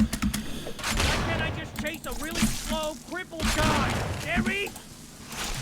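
Bursts of gunfire in the video game BloodRayne 2 crackle through a busy mix, with a voice talking over much of it and shots clustering in rapid volleys.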